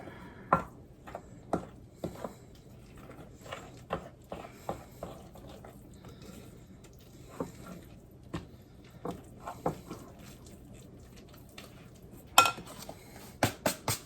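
A utensil stirs sourdough sandwich bread ingredients in a bowl, giving sharp, irregular clinks and knocks against the bowl over quiet kitchen background.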